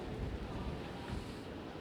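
Wind gusts roar outside Tropicana Field stadium in St. Petersburg after its roof was ripped off, a steady low rushing buffeting the microphone with no clear voices.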